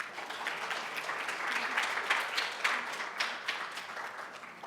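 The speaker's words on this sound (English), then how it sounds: "Let's welcome him with a round of applause." A distant audience applauds to welcome a speaker, soft but steady clapping spread evenly across the whole stretch, faint and roomy with no talk over it.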